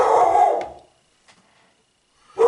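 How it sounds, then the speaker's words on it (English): A dog gives one loud, close bark that trails off into silence, then a fresh bark starts right at the end. "That's my dog, Penny the Barkmeister."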